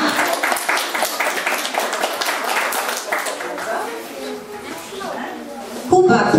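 Preschool children finishing their Akademia Malucha program receive a round of clapping from an indoor audience, steady and fairly close, fading before a louder burst near the end, with voices speaking over it.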